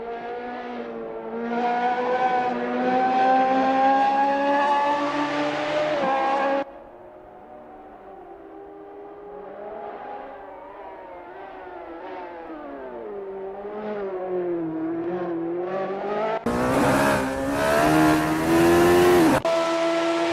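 A Radical SR3 race car engine in a sim racing game at Donington Park revs hard and shifts, its loud, steady whine rising and falling through corners, easing to a lower drone midway before climbing to a bright, screaming burst near the end.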